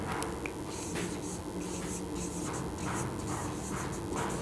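A teacher writes on a board during a chemistry lesson, producing faint, rhythmic scratchy strokes in short bursts over a steady room hiss, with no speech.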